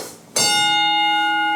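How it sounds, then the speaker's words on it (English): A steel ring target at a Schuetzen shooting range is struck once, ringing out with a sharp clang and then a long, steady metallic tone that holds clear and loud after a quiet moment. "Ring the bell."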